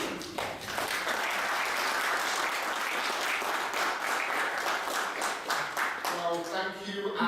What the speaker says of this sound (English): let's give a big round of applause to David Burton.